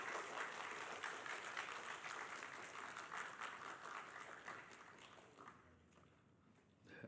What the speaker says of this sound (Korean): 우리 이제 선교사님 나오실 때 큰 박수로 환영해 주시겠습니다.